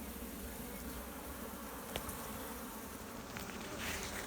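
Steady, low insect buzzing from many bees fills the air, a continuous hum with no talking.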